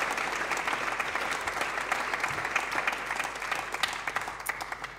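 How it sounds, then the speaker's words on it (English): Steady, dense round of applause from a church worship congregation honoring an intern named Simeon, even and sustained for several seconds at moderate distance. "Let's give Simeon a big round of applause"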